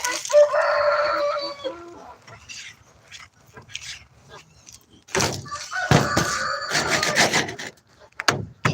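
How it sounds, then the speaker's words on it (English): Small chickens cluck and squawk at feeding time, with wooden knocks and door-like bangs among them and a person talking at times. "these chickens, even though they're tiny, are some of the hardest fucking critters to feed"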